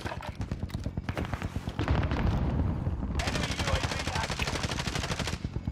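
Rapid bursts of video game gunfire rattle on throughout, loud and continuous, with a short lull before a dense stretch of fast repeated shots that runs to the end.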